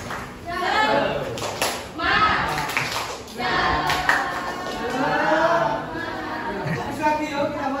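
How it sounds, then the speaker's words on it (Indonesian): Children in a classroom clap along to a rhythmic 'tepuk semangat' chant, patterned claps mixed with voices chanting and talking throughout. "Tepuk semangat"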